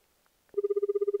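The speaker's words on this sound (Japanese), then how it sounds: "それじゃあ早速電話だ。" Ringback tone of a phone call to a consumer hotline: a steady, loud, rapidly pulsing purr starts suddenly after a brief click and repeats evenly to the end, with no talking.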